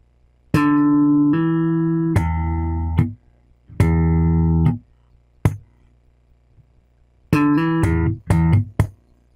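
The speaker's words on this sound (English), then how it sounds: "We're going to do a hammer-on again with a pop, slap the open sixth string" Funky slap guitar groove mixes popped strings, hammer-ons and muted ghost notes on the open sixth string, heard as short bursts of plucked notes separated by gaps, close and clean with no talking.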